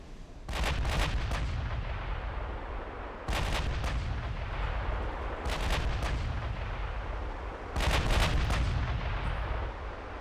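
Naval guns fire in the video game Ultimate Admiral Dreadnoughts, with four heavy booming salvos spaced a few seconds apart over a continuous rumbling battle din.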